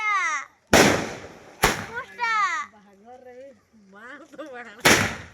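Diwali fireworks from a 30-shot cake burst overhead in three sharp, loud bangs spaced apart, while excited voices and children call out between the blasts.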